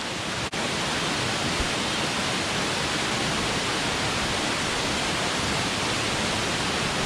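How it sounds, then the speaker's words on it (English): Vrede Waterfall rushing and crashing in a lush, mossy gorge, a loud, steady roar of water with no let-up. "And the SYM adventurers once again have reached Vrede Waterfalls."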